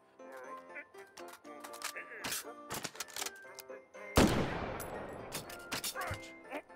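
Browning Automatic Rifle fired inside a VR shooting game, with sharp broadband shots and a big blast near the middle followed by a decaying echo, amid clicks and handling noises, loud and close.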